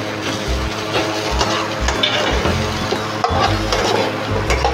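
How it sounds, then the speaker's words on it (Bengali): Eggs sauté with spices in a pan for a spicy Bengali egg kosha curry, giving a steady low sizzle with frequent scraping stirs and light clinks of the utensil against the pan, close by. "এবার ডিমগুলো দিয়ে ওর সাথে একটু কষিয়ে নেব।"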